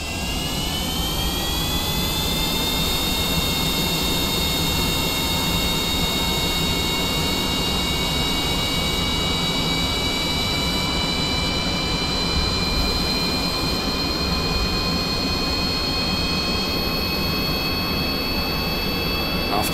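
In Kerbal Space Program with the RP-1 mod, a jet engine ignites and its afterburners kick in, giving a loud, continuous roar with whining tones that slowly rise in pitch.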